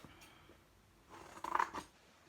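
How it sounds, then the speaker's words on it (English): Scissors cut through cardboard while making a fish puppet, giving a short burst of crisp snipping and scraping strokes close by with no talk, after a faint lead-in. "So then you use your scissors and you cut it out"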